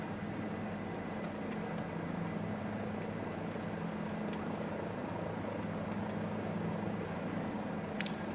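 Bell 407 helicopter engine in the Microsoft Flight Simulator 2020 game during flight over Port Stephens, Australia, a steady low turbine hum with rotor drone throughout, fairly quiet and unbroken.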